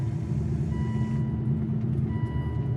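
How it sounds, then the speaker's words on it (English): A faint electronic hood-open alarm tone sounds steadily over the low rumble of an idling Aston Martin with a swapped V12 engine. "I think that's the hood open alarm"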